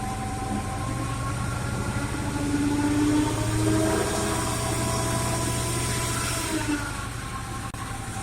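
A homemade tractor's VAZ-2106 car engine runs steadily nearby with a rough, throbbing drone, swelling slightly midway and settling again, no talking.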